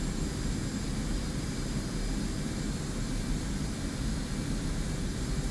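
A Spitfire's piston engine drones in a steady, unbroken roar during flight in DCS World, loud and constant with no voices over it.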